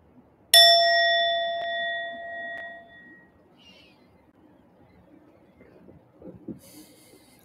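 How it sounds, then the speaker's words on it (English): A single strike of a meditation bell rings out clearly and rich with overtones, its tone slowly fading over a few seconds, followed by quiet room sounds and faint rustling. "I'll ring the bell"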